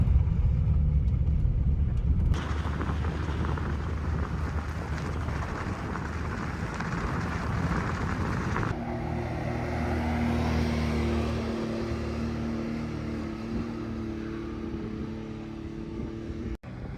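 A 2013 Acura ILX 6-speed rolls over a washboard dirt road on Arizona's Apache Trail, giving a constant low rumble of road and engine noise with a rough vibrating texture, steady and close inside the car, no talking.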